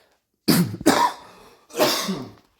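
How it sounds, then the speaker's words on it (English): Three harsh coughs up close, two in quick succession and a third after a short pause. "Sorry for coughing."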